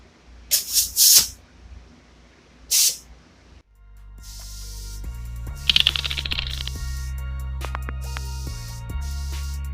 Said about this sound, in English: Spraying with that Iwata